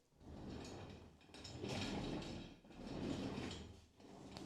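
A light chair being moved gives a low rumbling, scraping creak in two or three slow, drawn-out swells, close and quiet, with no speech over it.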